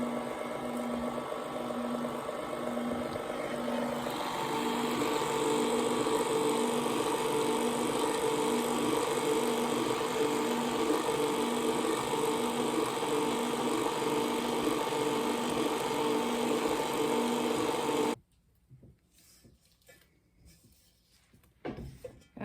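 A KitchenAid stand mixer beats cream cheese frosting with powdered sugar, a loud steady motor whir that rises slightly in speed after a few seconds, then cuts off abruptly near the end, leaving quiet clinks and handling noises.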